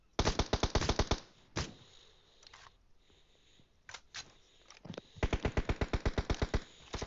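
Automatic weapon fire in the mobile battle-royale game PUBG Mobile: loud rapid bursts of sharp shots open the clip, a few isolated cracks follow in the middle, then another long rattling volley near the end.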